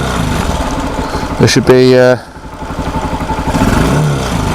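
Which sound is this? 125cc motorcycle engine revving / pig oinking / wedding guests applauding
125cc motorcycle engine revving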